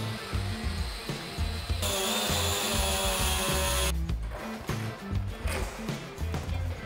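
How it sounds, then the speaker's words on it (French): Power tool cutting through a plastic riser extension along a marked line, a loud continuous whine shifting pitch as the blade bites, stopping and restarting in short bursts near the end. "Découpe l'extension de rehausse en suivant le trait prévu à cet effet."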